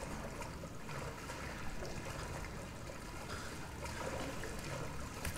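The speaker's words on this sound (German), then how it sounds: "Jetzt müssen wir durchs Wasser." Water sloshing and trickling steadily as a character wades through sewage in a flooded basement in Resident Evil 7, a continuous close wet churn with no voices.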